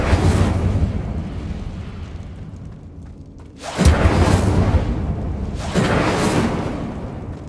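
Fire spell bursts from Incendio in Hogwarts Legacy: two loud whooshing blasts flare up over a steady rumbling game background, each swelling quickly and then fading.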